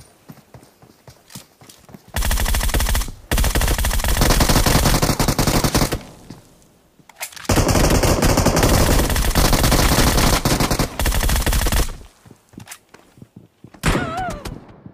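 Groza rifle gunfire in BGMI, long sustained bursts of rapid automatic fire in two heavy stretches of several seconds each, loud and close, separated by brief quieter gaps with scattered shots.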